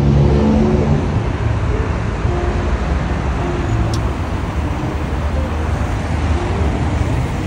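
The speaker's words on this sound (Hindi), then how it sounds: "रियाद का ट्रैफिक इज जस्ट क्रेजी, बिल्कुल कराची की तरह का ट्रैफिक है" Busy road traffic in Riyadh rumbles on as a continuous wash of passing cars and buses, with engines swelling and fading at mid distance and no voices over it.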